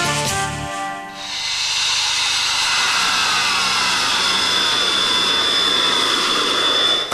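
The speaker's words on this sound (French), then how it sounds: "Un avion de chasse qui traverse une route nationale." A Swiss Army fighter jet roars in as it crosses a national road, its loud engine hiss and whine building and holding at full power as it passes close by.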